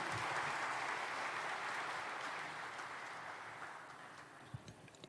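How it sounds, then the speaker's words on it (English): Applause welcoming the chief guest, a minister, at the inauguration of ECGC's new head office building, heard as a soft, distant wash of clapping that slowly fades, ending in a few isolated claps. "Let's have a thunderous round of applause for him, ladies and gentlemen."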